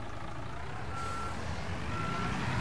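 Reversing alarm of a truck in the video game Construction Simulator 22, a steady repeating electronic beep over a low diesel engine rumble, close and clear without any talk.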